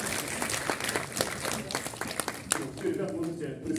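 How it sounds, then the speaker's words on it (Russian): Audience applause for children who took part in a physics demonstration at a university lecture, steady dense clapping throughout with a voice briefly over it. "Поаплодируйте нашим друзьям."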